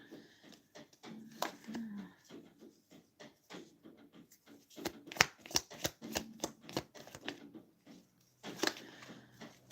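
Yes-and-no cards being shuffled by hand, a run of crisp riffling and flicking bursts with short pauses between them, close and clear, no talking.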